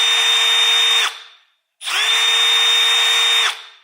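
A Milwaukee M12 FUEL 1/2-inch hammer drill (2504-20) spinning at speed 1, heard as two loud, steady whining bursts separated by a short pause, each winding down as the trigger is released.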